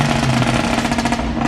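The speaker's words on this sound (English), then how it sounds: "Everybody is revving it, bro." Loud, close Ford Mustang engine revving in a street gathering, a gritty, rumbling burst that holds at high volume without pause.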